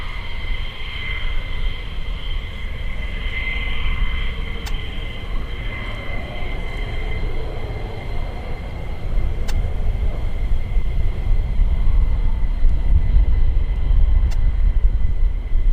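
A military aircraft at RAF Lakenheath and Mildenhall gives a broad, steady jet roar that swells louder toward the end, with high whining tones on top and no talk.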